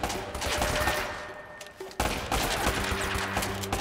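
Gunfire in the Uncharted: Drake's Fortune video game: loud, dense, continuous automatic fire and bursts filling the whole stretch, with a brief dip before it surges again.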